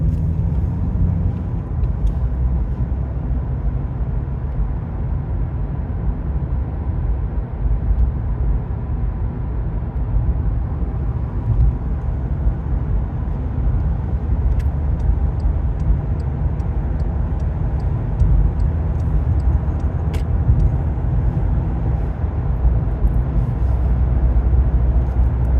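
A car cruising along the M1 motorway in England: a steady, loud low rumble of engine and road noise that holds unbroken for the whole stretch, with no talking.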